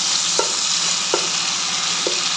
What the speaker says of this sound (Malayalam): ഒന്ന് ജസ്റ്റ് ഒന്ന് ഫ്രൈ ചെയ്തെടുത്താൽ മതി